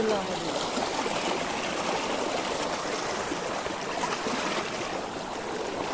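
Steady rushing water of a river flows continuously, a dense, even wash of sound running nearby.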